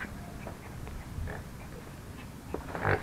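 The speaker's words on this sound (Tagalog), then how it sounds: "Pakita ko lang sa inyo yung baboy." A black pig at a rural rest house in San Miguel, Bulacan, giving low grunts and snuffling noises close by, fairly quiet against an outdoor background.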